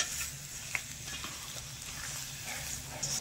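A vegetable chop mixture of winter vegetables is stirred and fried in a pan, with a low steady sizzle and soft scraping stirs and a few faint clicks throughout.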